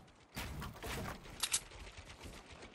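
Gunshots in the Fortnite video game, a short run of faint, sharp distant cracks with a couple of brighter snaps, no voices.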